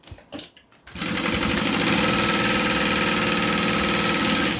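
A sewing machine runs a steady, loud top-stitching seam, its fast needle rhythm starting after a second of quieter handling and continuing evenly to the end.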